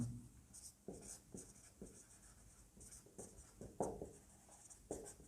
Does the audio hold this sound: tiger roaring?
no